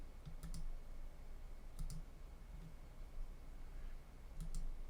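Computer mouse clicking on a desk, a few sharp double clicks spaced out over several seconds, close and faint against a low steady background hum.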